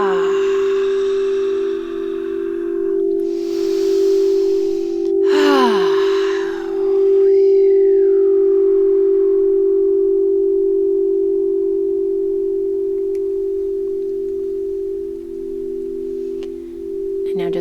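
Singing bowls ring with a loud, sustained tone that holds steady for the whole stretch, while breathy vocal sounds and wavering voice tones rise and fall over it in the first half.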